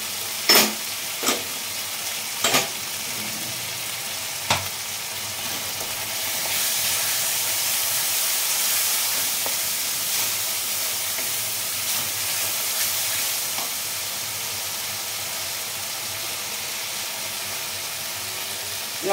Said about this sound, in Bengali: আদা বাটাও দিয়ে দিচ্ছি। গ্রেট করা টমেটোটা দিয়ে দিচ্ছি।